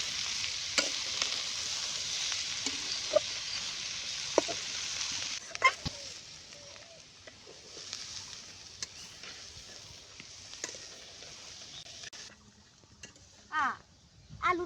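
Bitter gourd and potato fry turned over in a pan, with a steady sizzle and intermittent scraping and clinking strokes close by, the frying noise dropping out near the end.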